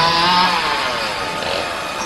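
Loud, continuous chainsaw engine roar with a buzzy rasping texture and slight pitch wavering, close and unbroken.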